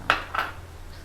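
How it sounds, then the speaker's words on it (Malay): A metal lid is set onto a cooking pot of crab curry broth, giving two quick clinks close by over a low kitchen hum. "Kita tutupkan periuknya ya supaya dia cepat sikit mendidihnya lah."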